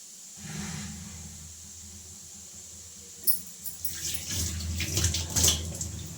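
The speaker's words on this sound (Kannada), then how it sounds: "ಸೊ ಫಸ್ಟು ಸ್ವಲ್ಪ ಮುಖ ತೊಳ್ಕೊತೀನಿ" Running tap water splashes as a face is washed at a sink, a soft steady stream at first, then louder, closer splashing and spattering as hands scoop water, with no talking.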